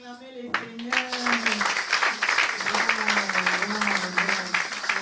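A Paris audience at a 2017 Hadassa Night gathering bursts into sustained, dense applause and cheering after a brief voice at the start, with vocal sounds carrying over the clapping.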